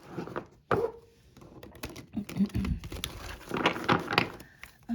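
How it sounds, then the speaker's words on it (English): Tarot cards being shuffled by hand in a quiet room, giving irregular soft riffles, slaps and papery crinkles in short bursts close to the mic, without any talking. "I feel like I have to shuffle like this for a second."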